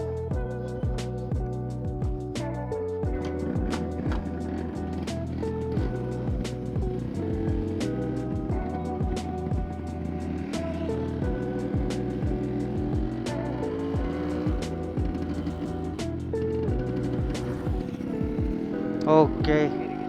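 A Yamaha RX100 motorcycle engine idling in first gear with a steady two-stroke hum and rapid regular ticking, close and continuous, a brief rise in revs near the end.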